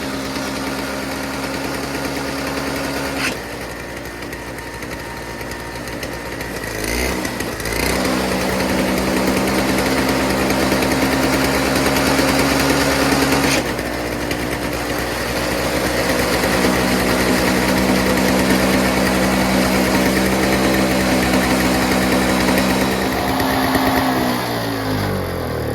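A Toro 7HP R-Tek two-stroke single-stage snowblower engine runs loudly and steadily close by, its buzzing drone shifting slightly as the auger is engaged, with a brief clunk and a dip near the end.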